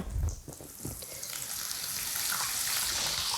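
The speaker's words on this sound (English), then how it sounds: "we want to fry it until it's golden brown" A breaded saltfish burger coated in egg, Parmesan and breadcrumbs fries in oil, giving a steady, close hiss and sizzle that swells slightly after an initial thump and continues without talk.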